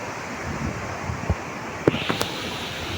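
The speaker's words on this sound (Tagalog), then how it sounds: "bumubugso na yung hangin guys" Strong typhoon wind roars steadily across the microphone, a broad, rushing hiss with a few sharp buffets and knocks.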